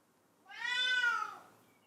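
A pampered pet cat gives a single clear, drawn-out meow of about a second, close and moderately loud, rising then falling in pitch against a quiet room.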